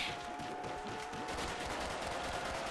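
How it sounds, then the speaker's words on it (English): Dense, continuous automatic gunfire in Call of Duty Zombies on the Der Riese map, a steady rapid rattle of shots running the whole time, fairly quiet and without talk over it. "you should see how fast I'm shooting this gun"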